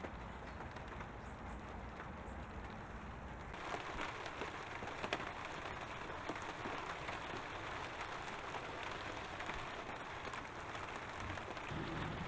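Steady rain falling over an allotment garden in January, a continuous soft hiss of drops pattering on surfaces, fairly faint and unchanging throughout, with no voices.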